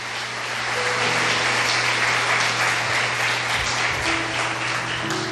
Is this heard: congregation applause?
yes